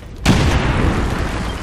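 An explosive breaching charge blows a wall open in XCOM 2, a sharp loud boom followed by a long rumbling roar and debris that stays heavy for over a second.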